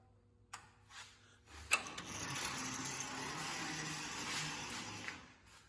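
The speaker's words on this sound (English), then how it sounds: "Okay, winch in." A truck-mounted winch winding in its line, operated from a control panel in the cab, gives a steady mechanical ratcheting, grinding whir that starts with a sharp clank and runs continuously at moderate level, with no talk.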